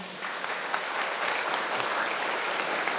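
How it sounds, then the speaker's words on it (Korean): Applause from a Korean forum audience, a dense, even wash of many hands clapping at a distance, sustained without pause. "이 부분에 대해서는 우리 함께 다 박수 쳐야 되지 않을까요?"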